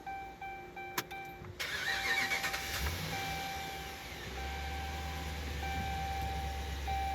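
A Dodge Ram with a check engine light on cranks over after a few electronic chimes, catches, and settles into a low, steady idle, heard close and moderately loud.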